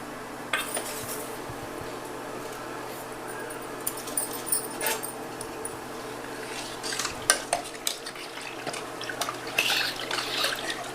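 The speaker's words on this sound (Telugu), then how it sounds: "ఇప్పుడు ఈ పిండి మనం నీళ్ళలో కలుపుకుందాం." Jowar flour is stirred into cold water in a kitchen vessel for millet porridge, giving close, intermittent scraping, swishing and light clinks of utensil against the pot, with no talking.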